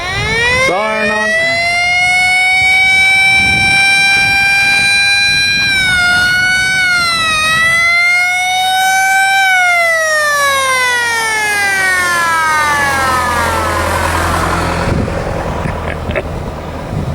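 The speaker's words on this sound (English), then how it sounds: "Siren on." An emergency vehicle siren is switched on nearby, wailing loudly in long rising and falling sweeps over a running engine.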